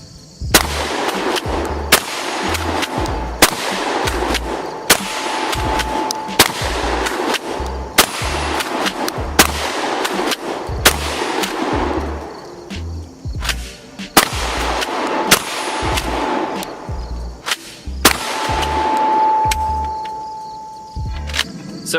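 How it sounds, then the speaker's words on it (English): A tactical shotgun set to alternate between magazines fires buckshot and birdshot at outdoor targets, about a dozen sharp, loud blasts spaced a second or two apart, each followed by a short ringing echo. "Let's shoot at both of these targets. I have this set to alternating shot, so it'll pull one from each side"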